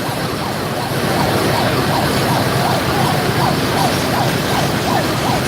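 A fire engine arrives at a major fire in Mahad, its wailing siren rising and falling repeatedly and loud and close over road noise, with no speech.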